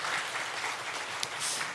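A church congregation claps for the children during a worship service, a full, steady round of applause from many hands, dense and even throughout with no talking over it.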